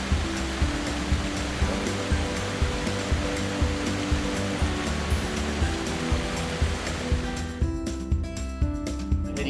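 Steady rushing water of a waterfall in Victoria, Australia roars continuously, a broad wash of falling water with a low rumbling undertone.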